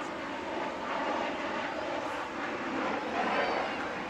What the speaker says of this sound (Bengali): এবার ফাইটার জেট উঠছে